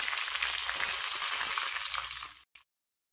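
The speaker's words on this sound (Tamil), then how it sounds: "எண்ணெய் சூடான உடனே கடுகு நம்ம எடுத்து வச்சுருந்தோம் இல்லையா, வெந்தயம் எல்லாம் போட்டு தாளிச்சுக்கோங்க" Mustard seeds, fenugreek and curry leaves tempering in hot oil, a dense close crackling sizzle that runs steadily and then stops abruptly near the end.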